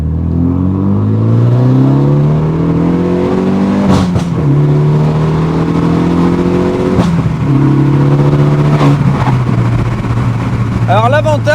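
A Renault Megane 3 RS Red Bull edition engine pulls hard through several short-shifted gear changes, its steady loud drone rising in pitch, dropping briefly at each shift and climbing again, recorded close from inside the car with some talk over it.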